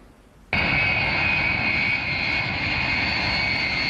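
An air force transport plane carrying a shipment of Chinese vaccine arrives in Algeria, its engines cutting in abruptly after a quiet moment and holding a loud, steady roar with a high whine throughout.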